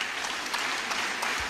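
A crowd at a Tanzanian funeral gathering gives a short burst of applause for the government chief chemist, a continuous dense clapping at moderate level.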